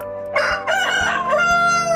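A KUB chicken rooster crows on a small home farm, one loud, close, drawn-out call with a rising start and a long wavering tail, heard alone without talk.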